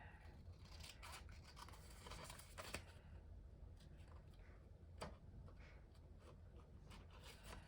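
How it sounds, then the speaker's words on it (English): Steady snipping of scissors through a paper ticket and ribbon, quiet and close, with a few sharper clicks over a constant low background hum. "I'm going to fussy cut this ticket and this ribbon."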